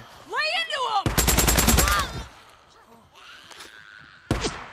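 Chicago Chopper submachine gun firing in the Days Gone video game, a loud rapid burst of shots at close range, with shorter bursts and a final shot after, alongside other game noises.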